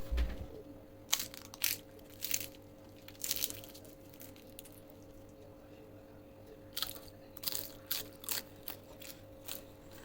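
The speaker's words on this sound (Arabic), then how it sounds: "يا سلام، سمعوا معايا التقرميشه." Crisp, close crunching of fried spinach and cheese briouats, irregular bursts of bites and snaps in two clusters with a quiet gap between them, no talking.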